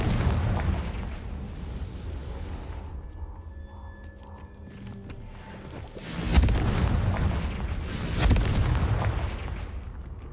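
The Confringo explosive spell in Hogwarts Legacy goes off in two heavy booming blasts over a rumbling game backdrop, loud and near.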